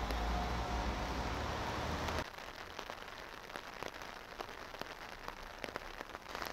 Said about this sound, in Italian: Ma come piove, come piove!